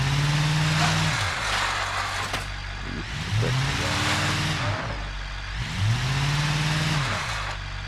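A car in a racing video game revving and driving into a snow pile, engine tones rising and falling in repeated surges over a continuous rumble, loud and close, no voices.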